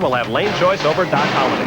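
Top-fuel drag racing car at the 1990 IHRA Eastern Nationals in Atco, New Jersey, a 4,000-horsepower engine roaring down the strip as a loud, harsh blast beneath a race announcer's continuous commentary.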